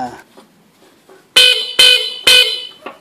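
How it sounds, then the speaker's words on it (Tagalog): Three short, bright motorcycle horn beeps from a Yamaha RS100 in quick succession ring out loudly and close by, with faint voices and clicks before them. "Kanyang busina."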